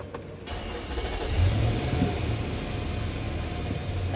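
A Nissan Patrol with a 4WD fault is started in a workshop, then settles into a steady, moderately loud idle rumble with no one speaking.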